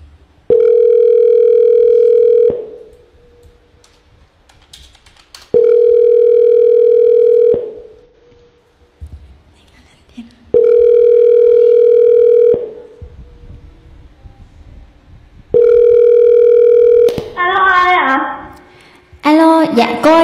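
A telephone dial tone during an outgoing call sounds as four long steady tones of about two seconds each, separated by pauses, loud and close, with a brief burst of voice near the end.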